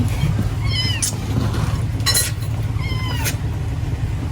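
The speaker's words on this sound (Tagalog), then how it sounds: "Nagugutom na rin ang mga pusa." Hungry cats meow at home, two clear, plaintive meows spaced a couple of seconds apart over a low, constant background hum.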